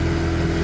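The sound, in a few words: river boat outboard motor revving at wide open throttle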